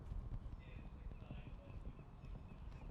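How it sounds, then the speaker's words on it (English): At a CSI5* 1.50m show jumping competition, a horse gallops across the arena with a rapid, continuous drumming of hooves on footing. The hoofbeats are moderately distant and sit under announcer commentary and crowd ambience. "This horse has a big, beautiful gallop."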